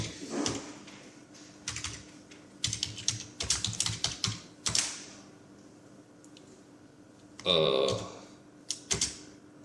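Typing on a computer keyboard while entering an email subject: bursts of quick, close key clicks with short pauses and a few louder single taps between them.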